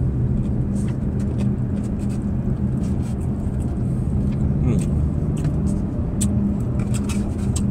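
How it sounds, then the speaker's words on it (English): A Dodge Challenger on self-driving assistance cruises down the road, heard from inside the cabin as a steady engine and road drone. "car's driving by itself"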